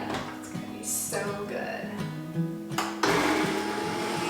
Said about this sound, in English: I'm going to go ahead and blend this baby up.